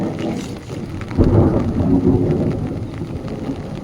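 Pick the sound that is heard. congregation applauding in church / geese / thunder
thunder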